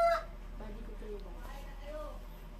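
A backyard chicken clucks and calls in short broken notes, close and moderately loud over a low steady hum.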